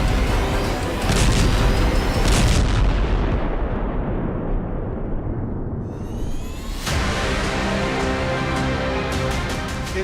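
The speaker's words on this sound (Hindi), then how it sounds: "धमाके की गूंज से पूरा इलाका दहल उठा।" Explosions from Israeli strikes on Beirut at night, a continuous loud rumbling roar of blasts and booms with broadband noise throughout and a renewed surge of heavy detonation sound partway through.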